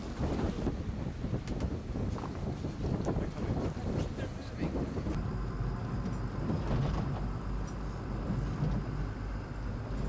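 A speedboat crossing open sea near St Kilda, with a steady engine drone and hull-and-water rush under heavy wind buffeting on the microphone throughout.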